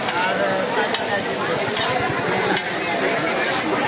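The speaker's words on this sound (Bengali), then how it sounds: "এই যে কাকার চাউমিন ভাজাটা দেখো একটু। কাকা ভালো করে নাড়া দাও তো একবারে ঘন ঘন করে।" Chow mein stir-fried at a busy fair stall: a steady sizzle with scraping and tossing strokes from the pan, heard under close voices and crowd noise.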